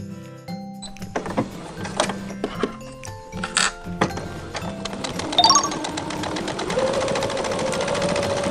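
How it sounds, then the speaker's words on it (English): A sewing machine stitches the sides of a fabric gift bag, with a few thunks and handling knocks first, then the motor whirs up into a steady, close running hum with rapid needle clatter. "Fold it in half so the lining shows, then sew both sides."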